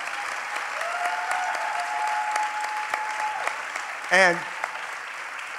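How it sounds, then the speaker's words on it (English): Sustained applause from an audience at a town hall gathering at the Apollo in Uptown, a dense steady patter of clapping with a brief louder burst near the end and a voice beginning to speak over it. "Can we give our sister a big round of applause and appreciation as well?"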